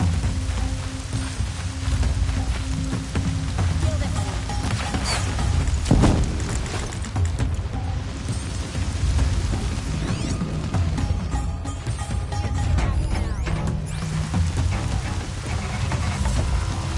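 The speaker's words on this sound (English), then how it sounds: "Rain's not so bad." Steady rain pattering through a Horizon Zero Dawn 2 game scene, a continuous dense wash under low rumbling game ambience, with a brief heavier thud near the middle.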